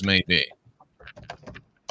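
A computer keyboard clicks in quick, light taps up close, following a brief spoken phrase.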